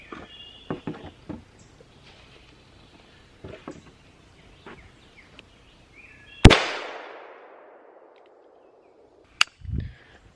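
A single loud, sharp .357 revolver shot fired at an aluminum target rings out and decays, followed later by a brief metallic knock; softer clicks and handling noises come before it.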